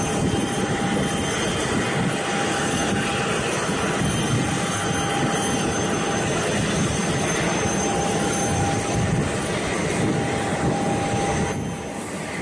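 A private jet engine roars steadily and loudly, a constant broadband whoosh with a thin high whine running through it, unbroken for the whole span and with no voices over it.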